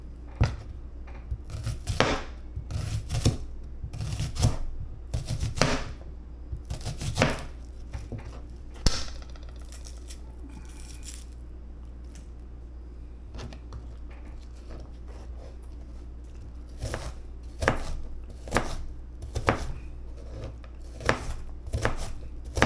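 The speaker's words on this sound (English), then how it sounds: "I normally pre-cut up my onions, but apparently there is none left. So I need to go cut up some more" A knife chops onions on a cutting board in bursts of rapid, close, crisp strokes, with short pauses between runs.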